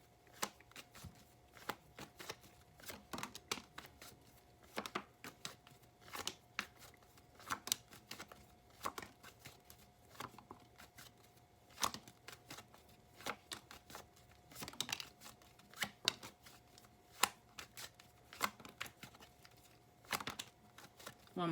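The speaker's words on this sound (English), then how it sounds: "Give me some cards." A deck of tarot cards is shuffled steadily and close to the microphone, giving repeated soft riffling clicks at a quiet, even level with no talking.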